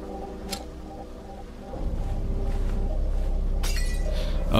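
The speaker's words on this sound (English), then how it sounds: "now you can actually use glass bottles to distract enemies" A glass bottle shatters in the video game We Happy Few with a brief bright crash late on, standing out over a steady layer of in-game ambience and music.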